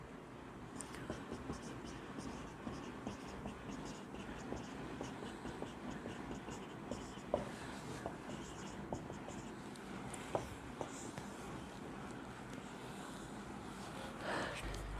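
Pen on paper while noting values in a physics lesson on a capacitor discharging through a resistor, faint intermittent scratching and tapping in a quiet room with soft breaths.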